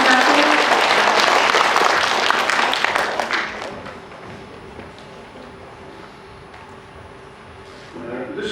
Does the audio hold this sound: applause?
yes